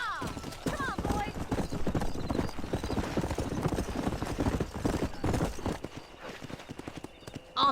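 Horses galloping in Red Dead Redemption, rapid rhythmic hoofbeats pounding steadily close by with a whinny early on, while voices talk over the ride.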